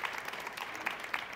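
A studio audience on a French-language talk show claps briefly, a faint, short spatter of applause from a small group with no talk over it.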